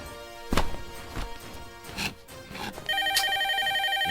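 A telephone starts ringing with a steady electronic trill partway through, following scattered knocks and thuds in an office, close and fairly loud.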